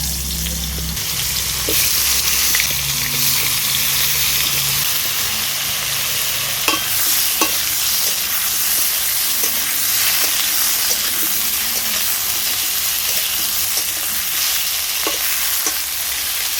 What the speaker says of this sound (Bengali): এবার এই তেলে আমি বেগুনগুলোকে ভেজে নেবো